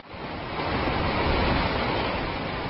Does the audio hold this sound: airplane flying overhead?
no